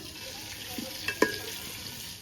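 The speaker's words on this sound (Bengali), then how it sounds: "এবার ওই তেলে আলুগুলো ভেজে নেব" Potato pieces fry in hot oil with a steady, close hiss and sizzle, broken by a couple of brief utensil clinks near the middle.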